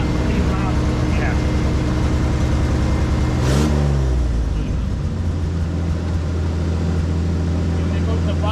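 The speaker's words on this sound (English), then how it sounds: "Hit the throttle, it'll stop pretty loud." A 1969 first-generation car's engine revving hard on the throttle, a deep loud rumble that surges mid-way then settles to a steady idle, close by, with people talking.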